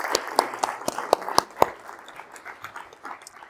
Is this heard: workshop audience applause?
yes